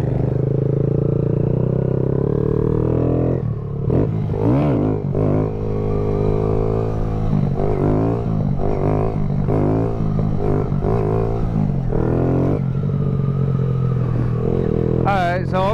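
A Kawasaki Z125 motorcycle engine drones loud and steady throughout, rising and falling as the throttle is worked during a wheelie attempt, with a few sharper revving surges and someone talking over it.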